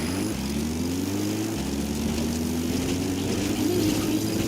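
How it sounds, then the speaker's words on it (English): A steady, droning helicopter rotor and engine hum with a low rumble, holding loud and constant as the support helicopter approaches, from the video game Metal Gear Solid 5: The Phantom Pain. "Support helicopter requested."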